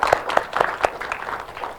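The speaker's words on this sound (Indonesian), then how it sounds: "Oke, boleh tepuk tangan?" A few scattered hand claps at a government dialogue forum, sparse and uneven, fairly close, fading into a quiet room murmur.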